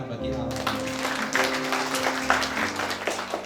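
Congregation applauding together in a church, a steady wash of clapping mixed with murmuring voices and a sustained music tone underneath.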